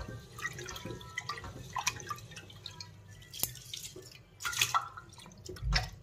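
Cold water drips and splashes irregularly in a sink during hand washing, a string of close, sharp droplet hits with a louder splash near the end.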